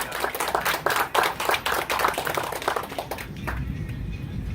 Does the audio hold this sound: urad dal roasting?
no